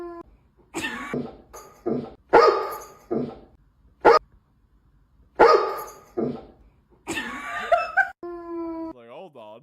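A dog barks, whines and whimpers in short bursts, ending in a drawn-out, wavering whine.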